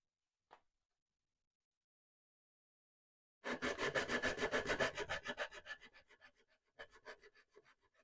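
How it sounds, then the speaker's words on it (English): Hand sanding of a wooden stand for hanging petunias, with brad nails through it: a brief faint scrape, then steady rhythmic rubbing strokes that slow and fade, followed by a few more short strokes, close and alone. "I can sand this one a little more."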